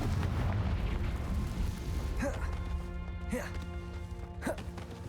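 Confringo blast spells going off in Hogwarts Legacy, a dense rumbling burst at the start followed by several sharper whooshing impacts, under a game soundtrack with sustained tones.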